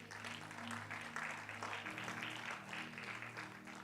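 A church congregation claps together for the Lord during a sermon, a faint, distant, continuous patter of applause with a murmur of voices beneath.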